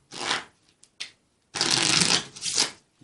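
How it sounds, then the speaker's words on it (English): A pack of playing cards is shuffled close up in a magic routine, with two short riffles followed by a longer, louder burst of flicking cards. "I'll just give the pack a little bit of a shuffle"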